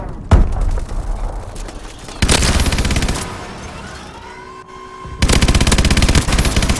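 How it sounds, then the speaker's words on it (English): A mounted turret fires in Call of Duty Advanced Warfare, with rapid loud bursts of automatic fire separated by brief pauses and a faint background tone. "This turret is actually quite fun to sit up in and shoot the enemies in."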